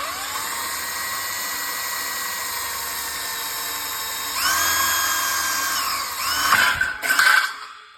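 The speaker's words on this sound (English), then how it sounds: "I'm going to drill a hole" A power drill boring a hole with a steady whine that climbs in pitch partway through, then grows louder and rougher in a few uneven bursts near the end.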